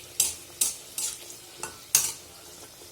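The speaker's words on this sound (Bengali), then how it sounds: "এবার এইভাবে সমস্ত কচুরিগুলো আমি ভেজে নেব" Pea-filled kachoris frying in hot oil, a steady sizzle broken by several sharp bursts as the oil is stirred and the pieces are moved with a utensil, with no talking.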